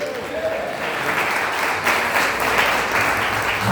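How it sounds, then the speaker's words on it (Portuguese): Church congregation at a communion service clapping loudly and continuously, a dense, even wash of applause with some voices underneath. "Cumprimentemos a amada igreja com as palmas bem fortes para Jesus,"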